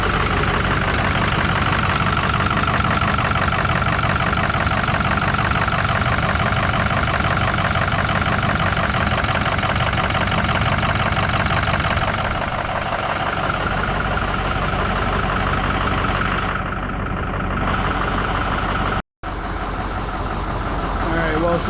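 A Ford 6.0 Powerstroke diesel idles steadily after injector replacement, with a dense, continuous rumble. The tone changes slightly partway through, and a brief dropout comes near the end.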